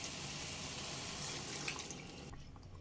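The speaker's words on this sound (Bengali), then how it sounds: "মিডিয়াম ফ্লেমে 4 মিনিট কষিয়ে নেওয়ার পর এবার দিয়ে দেব জল।" Water being poured into a pan of butter chicken masala cooked on medium flame, a steady close rush and splash of liquid that stops abruptly after about two seconds.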